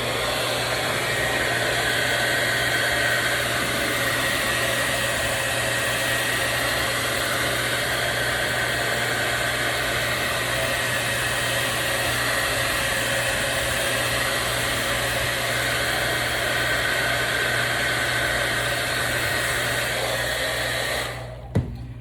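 A hair dryer on the cool setting, drying paint on a pallet, blows with a steady, loud whooshing hum for a long stretch, then cuts off abruptly with a click at the end.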